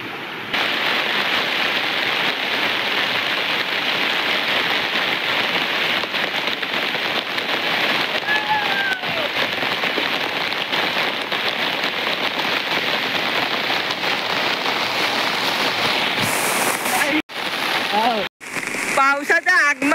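Steady heavy rain in the Konkan countryside, a loud unbroken hiss of drops hitting surfaces close by for most of the stretch, broken near the end by a few brief handling noises.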